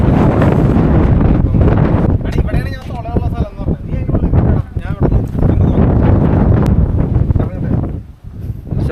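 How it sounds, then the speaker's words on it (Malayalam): Strong wind buffets the microphone on the summit of Madhugiri, a huge granite monolith, a loud continuous rushing roar with gusts, while people talk over it. "കാറ്റ് ഭയങ്കര അടിപൊളി"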